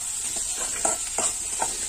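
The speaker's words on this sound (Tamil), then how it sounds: "நல்லா கிண்டி விட்டுக்கலாம்." Dried fish thokku with garlic and tomato being stirred in a pan: a few soft, scattered spoon scrapes over a steady, gentle sizzle, with no voices.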